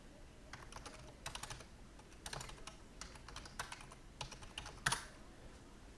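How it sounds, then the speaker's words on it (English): Someone types on a computer keyboard, with quiet clusters of rapid key clicks in short bursts separated by brief pauses, close and clear, ending with a slightly louder keystroke. "I'm just going to type in PowerShell"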